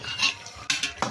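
Pieces of beef are turned over in a pot with a spatula: a few short scraping and clattering strokes against the metal, close and fairly quiet, with no voices.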